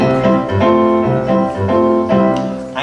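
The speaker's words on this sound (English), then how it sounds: "my keyboard usually sounds like this" Keyboard playing a brisk rhythmic figure of repeated chords over a bass line, close and steady for a few seconds, with no voices.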